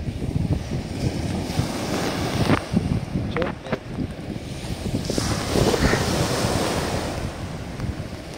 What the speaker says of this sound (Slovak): Obrovské vlny.